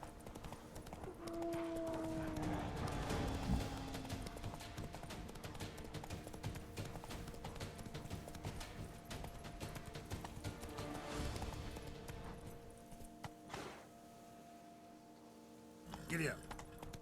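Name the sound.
horse hooves galloping in video game The Witcher 3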